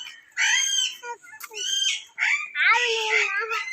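A parrot at Pilikula zoo in Mangaluru gives a run of loud, close, harsh squawking calls, several bursts with short gaps and a longer rising call near the end.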